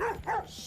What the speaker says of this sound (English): Oh, it's the dog. Yo, that's the dog